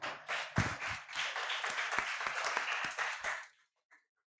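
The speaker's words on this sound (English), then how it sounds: "Let's give it a round of applause." An audience at a youth conference on revolutions claps after a talk is introduced, a lively burst of applause with some sharp nearby claps that fades out quickly, leaving a single late clap.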